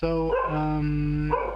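A dog barks and yowls continuously and loudly up close, a steady run of tonal, whining barks with a voice briefly audible underneath.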